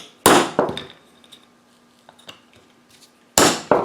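Sharp woody snaps ring out close by as scored fatwood sticks are snapped by hand: two quick cracks near the start, a pause with faint handling, then another crisp snap near the end.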